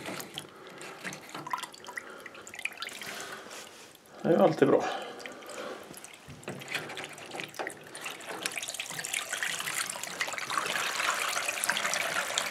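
Water trickles and drains from a leaking Bosch dishwasher whose door seal is being replaced, with a gurgling surge midway and a running flow building toward the end, while a person talks nearby.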